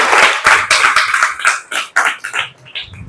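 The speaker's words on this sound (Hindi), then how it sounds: "एक बार जोरदार तालियां हो जाए" A burst of loud, close hand clapping from a class group, quick and uneven, fading toward the end.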